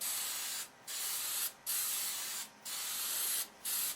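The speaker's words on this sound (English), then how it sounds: "I'm going to spray a second coat on the bottom sheet" Several bursts of hissing hairspray sprayed onto a wing sheet, close by, each lasting about a second with short pauses between them.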